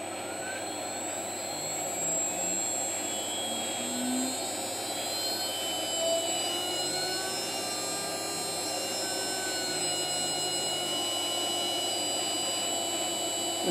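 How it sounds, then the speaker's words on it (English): A CNC mill spindle spinning at high speed while cutting out a metal panel, a continuous whining drone with shifting high tones, steady and unbroken throughout, with no voices. "start the mill."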